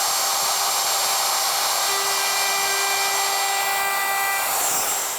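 Router rounding over the edge of a pine board for interior window trim, a loud, steady high-pitched whine with a bright cutting hiss, running continuously before spinning down at the end.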